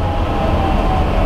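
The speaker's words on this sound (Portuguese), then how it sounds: "E agora o Jaime vai parar o trem na plataforma." Passenger train in Brazil pulling into the Cidade Industrial station platform, a steady close rumble of rolling cars with a faint whining tone above it, loud and continuous.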